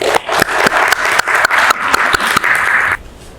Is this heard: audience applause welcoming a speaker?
yes